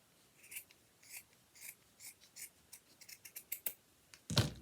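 Scissors snipping through fabric folded lengthwise in half for holiday gingerbread decor, a series of crisp close cuts at an even pace, quickening toward the end and finishing with a louder rustle of the material.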